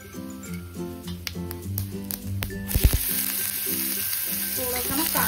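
Cumin, mustard seeds and asafoetida hitting hot oil: a few crackling pops and stirring clicks, then a loud steady sizzle taking over, close and with no talking.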